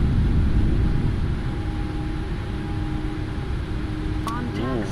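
Cockpit roar of a PMDG 777F freighter jet accelerating down the runway at high speed on takeoff in the Prepar3D flight simulator, a loud steady broadband rumble with faint tonal whines and brief beeps near the end.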